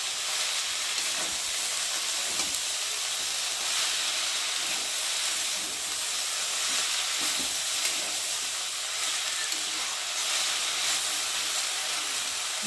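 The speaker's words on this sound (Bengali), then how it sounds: "একটু নেড়ে দেবো, যাতে তলায় না লেগে যায়।" Leafy greens fry and steam in a pan, giving a steady, soft sizzle and hiss throughout, with occasional faint stirring movements and no talking.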